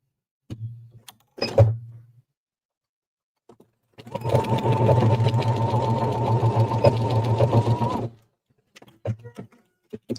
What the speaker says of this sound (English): And we're just going to straight stitch.